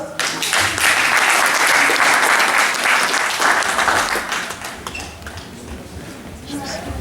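Loud audience applause at an outdoor Liberian Independence Day celebration in Zurich, sustained clapping from a crowd that gradually thins out over several seconds before the national anthem.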